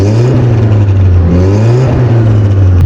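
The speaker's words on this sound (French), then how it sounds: "Ah, il y a une petite fuite d'échappement je crois." Car engine idling steadily with a small exhaust leak, a loud close low rumble with faint ticking and slight rev swells throughout, no talk; the car is tuned and targeted at 350 hp.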